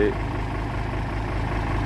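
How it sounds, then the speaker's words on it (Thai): A tractor engine idles in a video game, a low steady rumbling drone held close without change in pitch. "ต้องเอารถไถไป"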